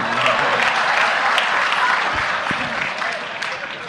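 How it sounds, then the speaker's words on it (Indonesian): A large audience claps steadily and densely at a talk by Emha Ainun Nadjib, with the sustained applause filling the whole stretch at an even loudness. "Tepuk tangan, tepuk tangan."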